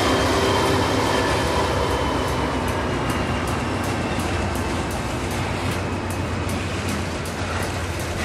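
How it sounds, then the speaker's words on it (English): Norfolk Southern ballast train rolling steadily through a siding, a loud continuous rumble and rail noise close by with no talking. "the heavier ballast train will keep going right on out the south end"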